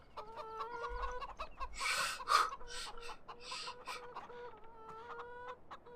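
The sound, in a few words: chickens clucking in a farming video game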